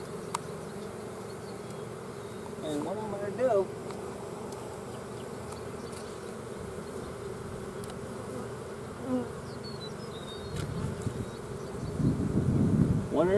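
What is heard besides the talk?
honeybees buzzing in an opened hive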